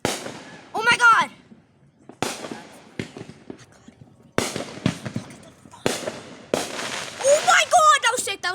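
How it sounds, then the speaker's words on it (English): Fireworks burst and crackle at night after 10 o'clock, with sharp reports spaced every second or so and some sounding close by, while excited voices shout in between. "We're getting a lot of fireworks now."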